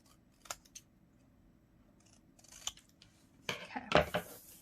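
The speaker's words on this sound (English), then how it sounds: "The next thing that I'm going to do is cut them out." Scissors cutting out ink swatch cards: a few quiet isolated snips early, then a louder cluster of sharp close blade snips and paper rustle toward the end, in a quiet room.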